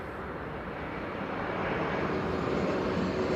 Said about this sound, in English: BizJet arriving from London Luton.